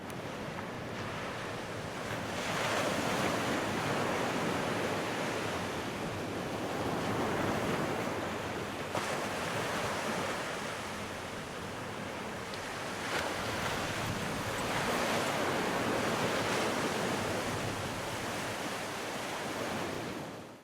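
Ocean surf breaking on the beach at Atlantic City, a steady roar of waves rising and falling in slow swells, with wind buffeting the microphone throughout and no voices.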